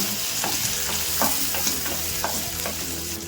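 Curry leaves, cumin, mustard seeds and chillies sizzle loudly in hot oil in a pan for a masala dosa tempering, with a steady crackling hiss broken by several sharp spoon scrapes against the metal.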